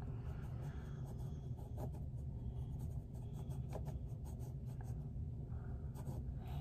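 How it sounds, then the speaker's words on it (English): A child colors a picture in black on paper, with steady scratchy crayon or marker strokes scraping close up over a low background hum. "now color the fours black"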